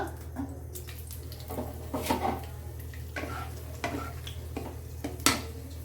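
Chili sizzling in hot oil with a little ghee for Bengali white pea curry (ghugni), a soft, steady crackle under a low hum, with occasional clinks and scrapes of a utensil against the pan.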